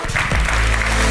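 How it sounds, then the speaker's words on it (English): An audience at a TV advertising conference applauding as a speaker comes on stage, a dense, loud burst of clapping from many hands heard up close. "Let's give a massive round of applause for Orlando Wood"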